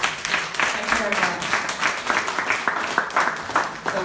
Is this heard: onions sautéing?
no